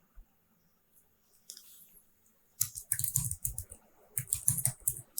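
Computer keyboard typing while entering a formula into an Excel spreadsheet: a few isolated taps early, then two dense bursts of rapid, close clicking keystrokes, with no talk.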